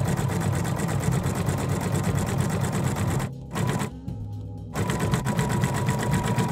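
A sewing machine runs in steady rapid stitching bursts, briefly pausing partway, as it sews a seam along a marked line on a fabric Halloween witch doll.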